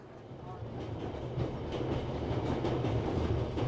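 A train rolls along rails in a steady low rumble, with faint rhythmic clatter building slightly over a few seconds and no one talking.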